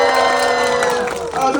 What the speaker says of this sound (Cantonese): 我哋用掌聲歡迎林敏聰，歡迎聰哥